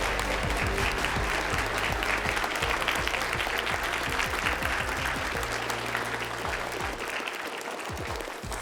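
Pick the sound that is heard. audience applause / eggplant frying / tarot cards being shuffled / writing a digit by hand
audience applause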